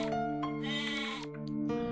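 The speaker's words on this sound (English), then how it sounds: "We got a sheep that jumps." A sheep in the Yume 2kki game bleats in a short, wavering cry, close and clear against a sustained musical tone.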